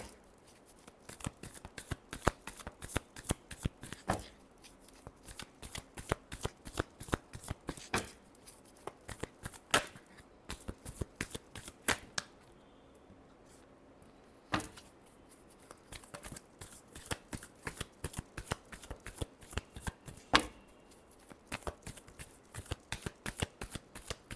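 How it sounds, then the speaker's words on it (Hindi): Tarot cards being shuffled by hand in a quiet room, a long run of rapid riffling flicks in bursts with short pauses, close and fairly soft, with no talking. "Last shuffle."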